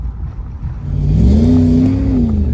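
Pontiac Formula Firebird engine revving up loud and close, its pitch climbing and holding high before easing slightly, with a steady rumbling drone throughout.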